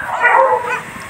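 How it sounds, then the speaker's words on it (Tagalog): A dog in a rural Philippine neighbourhood lets out one loud, close bark with a yelping edge. "merong aso na naman"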